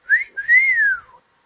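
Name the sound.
person imitating a wolf whistle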